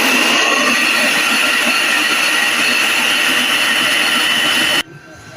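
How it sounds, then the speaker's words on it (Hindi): A blender grinds garlic sauce with a cornstarch gel added, a loud steady whirring roar that holds constant for about five seconds before cutting off abruptly. "इसमें अब इसको कर लेंगे ग्राइंड।"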